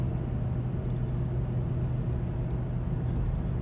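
Steady low road rumble and engine hum fill the cabin of an inexpensive Jeep cruising along, a quiet, even drone with no voices.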